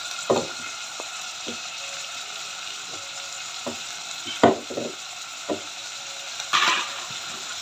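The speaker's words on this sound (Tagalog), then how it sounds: "mabango na yung ginisang bawang at saka sibuyas, lunod na natin yung ampalaya." Garlic and onion sautéing with bitter gourd (ampalaya) in a pan, a low steady sizzle broken by scattered clinks and scrapes of a stirring utensil, with a louder stir near the end.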